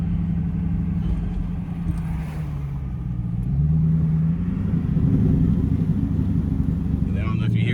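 A Dodge Charger Pursuit with Autostick, its engine rumbling low and steady from inside the cabin as it shifts down toward first gear, with a faint pop near the end and someone talking over it.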